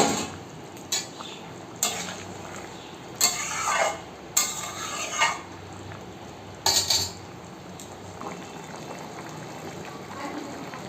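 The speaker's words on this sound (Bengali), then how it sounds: "আমার তো ঝোলটা ফুটে উঠেছে।" Rohu fish curry bubbling in a pot, with a spoon scraping and clinking against the pot in several loud bursts over a steady low simmer.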